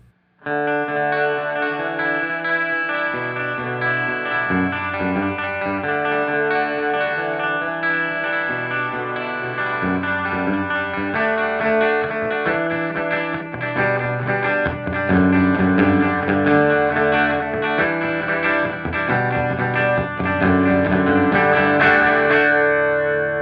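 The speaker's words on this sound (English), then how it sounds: "Here's the echo with the lag time knob set all the way to the right." Electric guitar fingerpicked through a Strymon Deco V pedal with its echo lag time knob turned fully up, each note trailed by repeats that smear into a continuous, chorused wash, played solo and fairly loud throughout.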